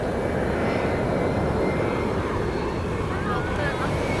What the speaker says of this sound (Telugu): అదిగోండి ఒక ఫ్లైట్ వస్తుంది